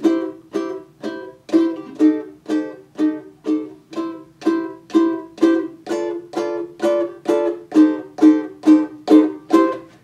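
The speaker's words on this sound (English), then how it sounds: "I would lay down a rhythm track using a swing tune." Steady strummed ukulele chords of a swing tune in a bouncy rhythm, evenly repeated strokes played close and clear with no voices.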